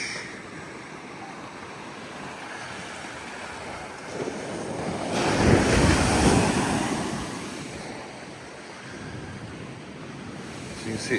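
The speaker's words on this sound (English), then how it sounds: "Here's the sea." Sea waves wash onto a beach on the calm west coast of Barbados, a soft continuous surf that swells into one louder rush midway, with wind buffeting the microphone.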